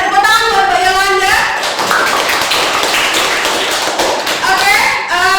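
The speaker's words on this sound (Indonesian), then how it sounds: "Tepuk tangan buat Mbak Yolanda." A classroom group claps for a presenter during a traditional dance lesson, a burst of dense applause in the middle framed by voices talking at the start and end.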